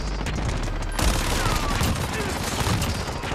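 Rapid Fennec submachine gun fire on the Shipment map in Call of Duty Modern Warfare, a dense continuous stream of close, loud shots with other game noise layered in.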